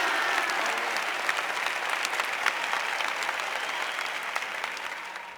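A church congregation applauds together during a Catholic service, a dense steady wash of many hands clapping that stays loud for the whole stretch and eases slightly at the end.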